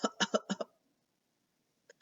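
A human voice imitates a burst of coughing: four quick, rough hacks packed into under a second, close and fairly loud, followed by silence and a faint short sound near the end.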